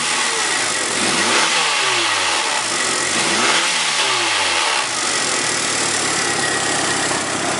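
A Mitsubishi Lancer Evo 5 engine revs hard twice in quick succession, each rise and fall sweeping up and back down, before settling into a steady idle; loud and close with no voices.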